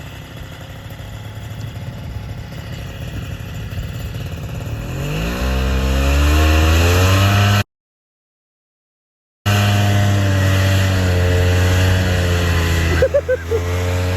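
A Yamaha or Ski Doo snowmobile engine off the trail in snow, rumbling and then revving up in rising sweeps, loud and close, with a brief gap and a stretch of steady high running after it.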